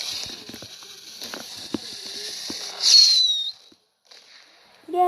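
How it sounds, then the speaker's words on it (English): A firework launches in a video game, giving a sharp whistling burst midway that fades into quiet, with light clicking and tapping sounds before it and a short tone at the end. "Yay, the firework."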